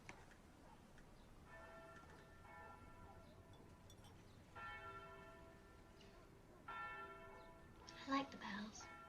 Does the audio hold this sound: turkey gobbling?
no